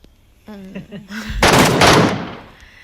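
An MK gun fires in a Metro mode shooter game, a sharp, loud burst following a voice, then a roaring blast that fades over about a second.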